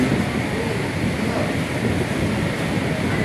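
Heavy rain falls with a cool wind on a hot afternoon, a dense, steady roaring wash with no distinct drops, moderately loud and unbroken throughout.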